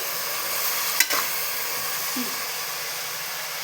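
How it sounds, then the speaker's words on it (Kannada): Food sizzling in hot oil while being stirred for a fenugreek rice dish, a steady close hiss of frying with a single light clink of a utensil partway through. "ಈಗ ಅದನ್ನ ಎಣ್ಣೆಯಲ್ಲಿ ಬಾಡಿಸ್ಬೇಕು, ಸ್ವಲ್ಪ ಫ್ರೈ ಆಗೋವರೆಗೂ."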